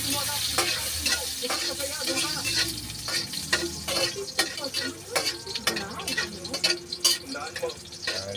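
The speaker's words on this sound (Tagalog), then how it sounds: "Dahil mainit na yung kawali, yung bilis mag-ano, golden brown na." Garlic frying to golden brown in a hot wok, a loud continuous sizzle with quick, repeated spatula scrapes and clatters, heard up close while someone talks over it.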